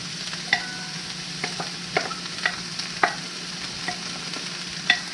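Onions stirred in a pan on high heat on an electric stove, a steady soft sizzle broken by occasional scraping stir clicks, close and alone.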